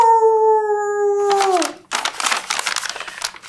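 A person imitates a coyote with a long, sustained, slightly falling howl, followed by rustling and scratchy noises.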